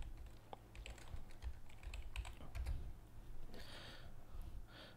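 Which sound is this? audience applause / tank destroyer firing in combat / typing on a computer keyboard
typing on a computer keyboard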